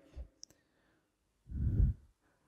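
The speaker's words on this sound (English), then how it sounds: "Then click next." A single sharp mouse click while installing XAMPP on a Windows 11 computer, close and brief, set between soft breathy sounds near the mic.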